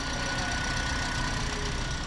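A Toyota Vios engine idles steadily with its air filter removed and unstable idle reported, a loud, constant low rumble with a faint whine above it, no voices.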